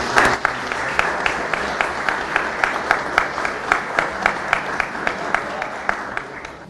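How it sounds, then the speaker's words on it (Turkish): Fenerbahçe players in a team meeting applaud a teammate whose baby was just born: steady, rhythmic group clapping that settles into an even, almost synchronized beat, fairly close and continuous, with a bit of murmuring underneath. "Öncelikle Çağlar'ı bir alkışlayalım"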